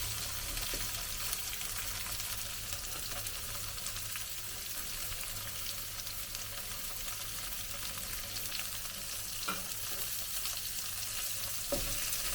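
Onions fry in oil in a pan while cooking a mushroom onion fry, giving a steady, even sizzle and crackle with a few faint clinks, close and continuous.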